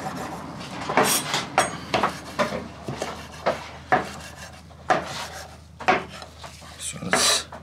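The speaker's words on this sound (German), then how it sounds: "Währenddessen können wir natürlich auch schon die Petersilie schneiden." Parsley cut into small pieces on a wooden board, with a knife scraping and chopping in irregular close strokes and brief pauses between bursts.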